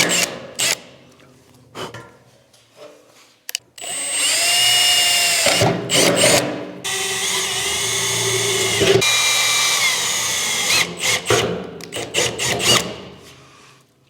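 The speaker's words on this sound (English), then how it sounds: "Tank is drilled." A power drill with a number 20 bit whines in several bursts, biting through a metal fuel tank on a Mitsubishi Evo 8 with a grinding screech, separated by clicks and brief pauses.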